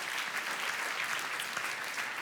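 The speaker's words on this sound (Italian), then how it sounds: "quindi grazie dell'applauso" A comedy club audience applauds a stand-up comedian with steady, dense clapping that fills the room evenly from start to finish.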